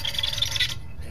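Dry valve lapping on a 327 engine head without oil, a close, scratchy back-and-forth rasp in quick repeated strokes that stops abruptly near the end, with no talking.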